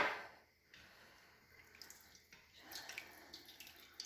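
Water poured into an Instant Pot, 2.5 cups of it, for sun-dried tomato risotto, a faint trickling splash that begins, breaks off briefly and then continues in quiet bursts.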